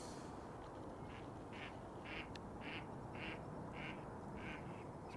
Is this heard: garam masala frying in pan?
no